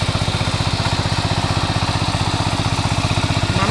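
A Kamco power tiller's engine runs at a steady idle nearby, a loud, even low chugging pulse with no talk over it.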